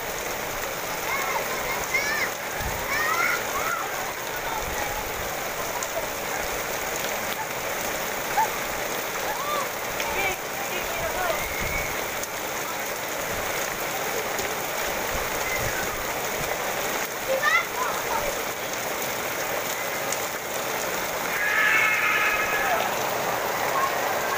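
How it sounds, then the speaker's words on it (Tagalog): Rain falls steadily on surfaces outdoors as a continuous wash of patter and drips, with faint voices and occasional sounds under it. "Maligo sila sa ulan."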